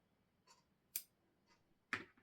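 Scissors snip a trimmed yarn end after crochet work, giving a few short, crisp separate cuts spaced about half a second apart, close and quiet.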